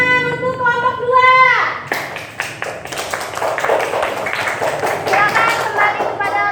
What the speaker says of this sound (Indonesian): Yuk, tepuk tangan untuk kelompok 2.